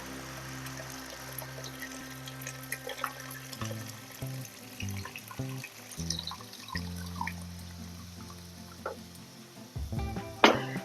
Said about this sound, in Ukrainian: До гречки додаємо воду.